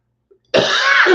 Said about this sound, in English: Once again, sorry for the cough.